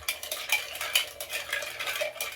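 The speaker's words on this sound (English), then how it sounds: "So you stir that for about 30 seconds or so until it's so bloody cold you can hardly touch it" A gin martini stirred with ice in a mixing glass, giving a steady, soft clinking and swirling of ice against glass, close and fairly quiet.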